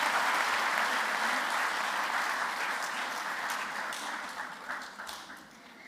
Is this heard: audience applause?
yes